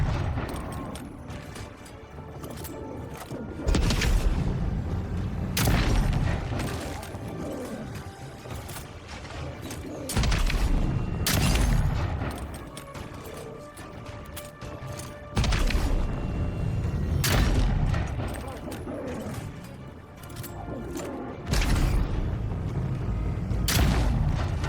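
Musket gunfire in the fantasy video game Avowed, a few loud booming shots spaced several seconds apart over a busy game soundscape, with occasional talk underneath.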